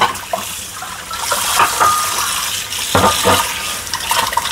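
Tap water runs steadily into a sink as leftover shrimp for pansit are rinsed, a close, continuous splashing hiss with brief surges and clatters as the shrimp are moved under the stream.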